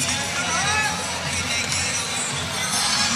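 A crowd at the Iowa vs Oregon State women's basketball semifinal in a college gym, heard as a steady hum of chatter and cheering beneath a commentator's voice.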